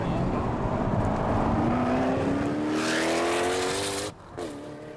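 A Koenigsegg CCR Evolution and a stock Porsche 911 Turbo with a PDK double-clutch gearbox accelerate in a race, engines roaring loud and close with rising pitch, then cutting off abruptly near the end.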